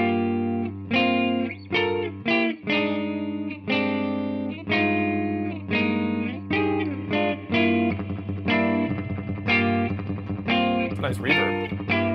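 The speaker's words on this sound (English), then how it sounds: "It's a nice reverb." Clean, twangy electric guitar played through a PRS Waves amp simulator with reverb, sustained notes and chords ringing out with a reverberant tail, loud and close, without voices.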